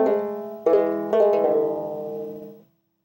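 Ornamented melody on a krar, the Ethiopian lyre, with several quick plucked notes and grace-like strikes layered over a sustained ringing tone that fades out near the end, played close with no voices.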